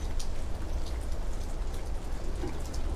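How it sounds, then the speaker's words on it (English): Steady spring rain falls on the ground, a dense, even patter of drops that stays fairly soft and continuous with no voices. "Spring has sprung, the rain is falling, we're getting quite a bit of rain today."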